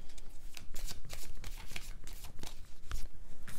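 A deck of tarot cards is shuffled and a card is drawn, a close run of crisp, rapid riffling and flicking sounds at moderate loudness, with no talk.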